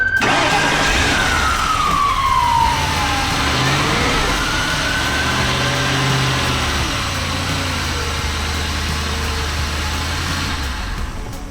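An old car engine, left sitting for a year, running steadily nearby, a rough low hum with a whining pitch shift as the car creeps forward.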